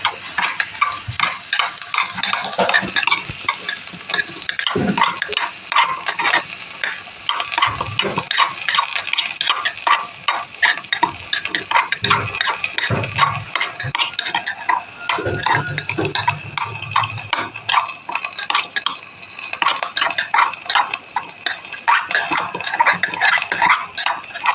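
A rice mix is stirred in a tiny miniature cooking pot, with repeated small scraping and clinking strokes of a little utensil against metal over a faint sizzle, close and busy throughout.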